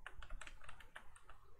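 A computer keyboard is tapped in a quick, quiet burst of keystrokes as a password is entered, the clicks close and irregular with no talking.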